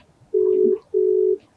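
Two steady electronic ringback tones of a phone call, each about half a second long with a short gap between, loud and close, with no voices.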